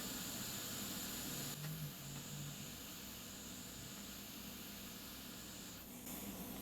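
Hot air rework nozzle blowing steadily on a chip of a Nintendo Switch board during a no-power short repair, a constant close airy hiss with a low hum beneath and no talk.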